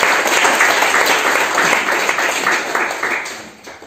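Church seminar audience applauding and cheering, dense loud clapping sustained throughout and tapering slightly at the end.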